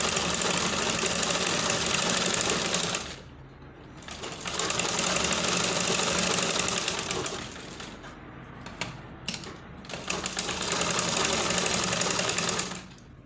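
A sewing machine stitches decorative thread along an Ankara shirt collar, running in long steady whirring bursts broken by short pauses and a few quick stop-start stitches, close and loud.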